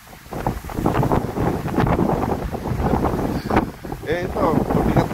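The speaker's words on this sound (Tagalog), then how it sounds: "Lakas ng hangin." Strong wind gusts buffet the microphone at a mountain campsite in Bukod, Benguet, a loud rumbling roar that rises and falls continuously while people speak briefly over it.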